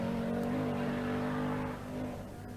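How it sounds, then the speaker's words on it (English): An Audi Quattro rally car engine drones loudly at close range with a steady whining pitch, then fades slightly as it passes by during the 1982 Circuit of Ireland rally. "The whistling Quattro is a rare sound anywhere"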